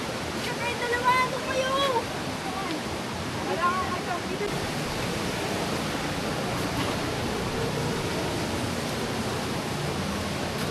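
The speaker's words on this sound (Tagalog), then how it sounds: "Ayun yung falls, ando sa dulo." A waterfall at Sitio Wawa dam in Montalban roars as a steady broadband rush of falling water, continuous and fairly close, with brief voices talking over it near the start.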